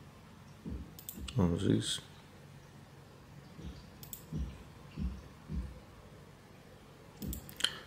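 Sharp mouse clicks on a betting site, a few scattered taps spread over several seconds, quiet and close, with a voice speaking between them.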